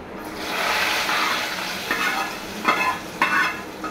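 Steady frying sizzle in a hot pan, with a few louder bursts and clatters of stirring near the end; no voices.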